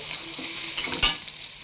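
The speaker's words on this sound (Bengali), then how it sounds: "এবার সোয়াবিনগুলোকে ভাজবো।" Soybean chunks frying in hot oil in a kadai: a steady close sizzle with two sharper crackling bursts near the middle, no voices.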